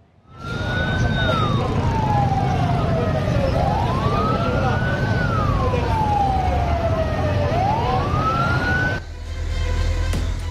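A wailing fire engine siren rises and falls in long, steady sweeps, loud and close, over a constant rumble of traffic noise, as fire crews respond to a market fire in Indonesia.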